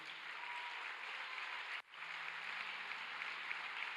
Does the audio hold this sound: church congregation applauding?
yes